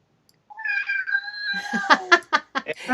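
A cat meows repeatedly and close by in a workshop where tatami mats are being handmade, with drawn-out mewing followed by a quick run of short calls.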